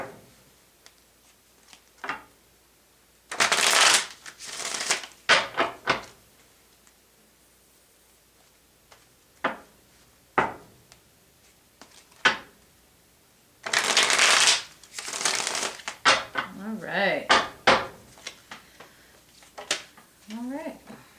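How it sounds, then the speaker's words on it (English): Tarot cards are shuffled in several quick riffling bursts, close and crisp, separated by quiet pauses and soft handling sounds. "2 more shuffles, Libra."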